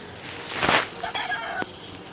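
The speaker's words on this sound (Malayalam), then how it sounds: "അതിൻ്റെ ഇടയ്ക്ക് ഇവിടെ കോഴിയും കിടന്ന് പോകുന്നുണ്ട് കേട്ടോ" A chicken clucks a few times nearby, short sharp calls over a faint background hiss.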